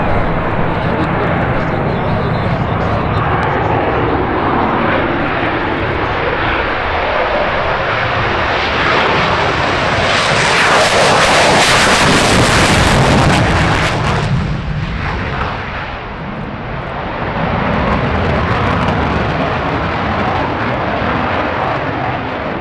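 An F-16 fighter jet roars past at an air show, its broadband engine noise loud throughout and swelling to a powerful, close peak before easing off, with a voice speaking over it.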